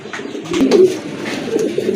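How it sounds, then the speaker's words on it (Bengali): Loft pigeons coo nearby in a low, throaty burst, then softer murmuring follows, with no talking. "আরেক জোড়া কবুতর লফটের কিন্তু সেরা কবুতর বলতে পারেন"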